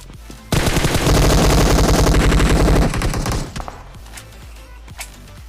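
Rapid automatic gunfire from a mobile shooter video game, a loud sustained burst of dense shots for about two and a half seconds, then tapering into scattered single shots and faint game sounds.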